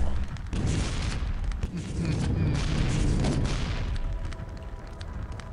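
Weapon fire in Quake 3 Arena during a one-on-one deathmatch, a dense run of blasts and booming shots with crackling bursts that continues for several seconds at steady loudness.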